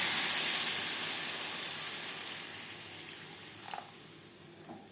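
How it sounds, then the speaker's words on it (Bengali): Water pours into a pan of fried potatoes and spices for a thin rohu fish curry, a steady hiss and rush that is loudest at the start and gradually fades, with a couple of faint clinks near the end. "দিয়ে দেবো জল"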